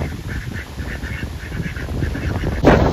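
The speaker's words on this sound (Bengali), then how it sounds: "এইটা রয়েছে অরিজিনাল হাঁস" Ducks quacking in a steady, repeated rhythm over a noisy outdoor background in drizzly, windy weather at a resort in Taki, with a louder burst near the end.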